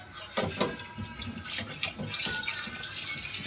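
Water runs steadily from a tap, splashing and gurgling into a basin nearby, with a few louder sloshing bursts and no voices.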